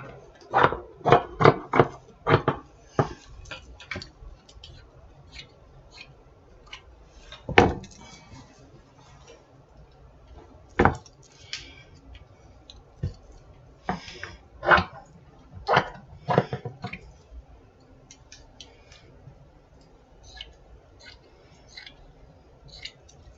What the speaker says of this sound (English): I'm going to cut a chunk off of this.